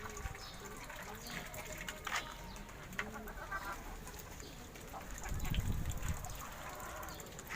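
Chickens cluck faintly among other fowl on a rooftop coop, soft scattered calls buried in a dense, noisy background with a voice talking over them.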